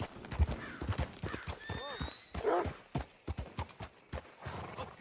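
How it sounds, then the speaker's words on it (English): A horse in the Red Dead Redemption 2 video game, its hooves clip-clopping steadily up close and a whinny breaking in midway, over faint background sounds. "Hitch your horse up here."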